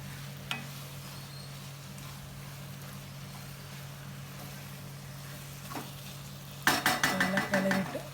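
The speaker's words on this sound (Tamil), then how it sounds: "இப்போ நம்ம எடுத்து வச்சுருக்க சிக்கனை சேர்த்துக்கோங்க. நல்லா கிளறிக்கோங்க." Chicken stirred into an onion-tomato gravy in a pan, a faint low hum through the quiet, then a burst of scraping and clinking spoon strokes against the pan near the end.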